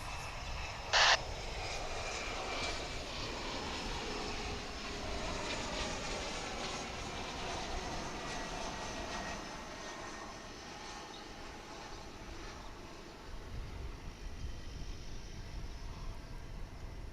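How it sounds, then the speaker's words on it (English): A Mitsubishi 900 LR airliner on approach to land at DFW International Airport, a steady, moderately loud jet engine roar that holds throughout with a faint broadband hiss and a brief click near the start. "It's a Mitsubishi 900 LR coming in from Midland in West Texas."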